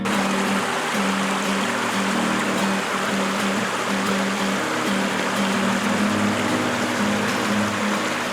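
Continuous rush of water flowing along Potato Creek, a steady broadband wash with a faint low hum underneath, no talk over it.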